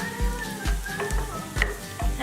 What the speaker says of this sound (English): Now in goes your whole garam masala. Give them a good stir.